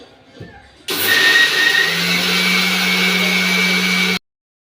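A mixer grinder whirs loudly and steadily as it pulverises sugar into powdered sugar, starting abruptly after a moment of quiet and cutting off sharply a few seconds later.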